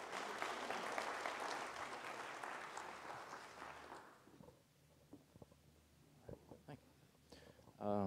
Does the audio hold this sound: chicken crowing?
no